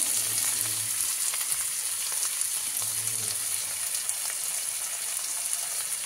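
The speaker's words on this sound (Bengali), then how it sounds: "তারপরে এটাকে ভাজা ভাজা করবো।" Onion and tomato, salted and with turmeric, sizzle steadily in a hot pan, a constant crackling hiss with faint low hum underneath and no talking.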